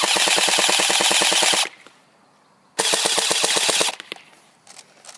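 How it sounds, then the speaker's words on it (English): Black Ops Tactical M4 airsoft rifle fires two fully automatic bursts, each a loud rapid string of evenly spaced shots lasting over a second, separated by a quiet pause, with no talking. "I'll show you how I can halfway pull the trigger and it'll shoot in fully automatic."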